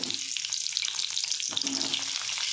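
Onion sizzles in a little oil with fried cumin and mustard seeds, a continuous close crackling hiss with brief stirring scrapes, heard alone without talk.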